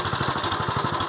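A Quick Impala hand tractor with a Honda GX270 engine runs steadily in a terraced rice field, its small engine chugging at a fast, even idle pulse, near and alone.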